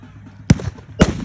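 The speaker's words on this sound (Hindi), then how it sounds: "लेकिन पटाखे लाए तो पटाखे जलाएगा राहुल" Two sharp firecracker bursts go off close by about half a second apart, each a loud crack with a short boom-like tail, then quiet.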